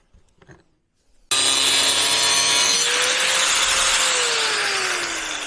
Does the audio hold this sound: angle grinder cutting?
yes